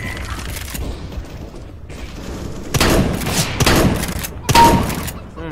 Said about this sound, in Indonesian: Gila, rami banget ditembak.